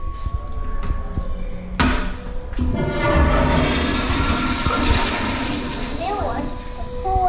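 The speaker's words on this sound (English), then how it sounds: "flush it." A hotel toilet at the Atlantis Paradise Island resort in the Bahamas flushes loudly after a sharp click, with rushing water roaring on and gradually settling while people talk nearby.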